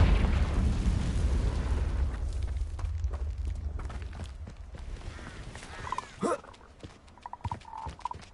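A Confringo fire spell blast in Hogwarts Legacy erupts loudly at the start with a deep booming rumble that slowly fades, followed later by a few smaller sharp bursts and magical effect sounds.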